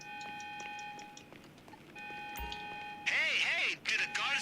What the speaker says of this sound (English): did a guard see you? Because I hear the alarms from here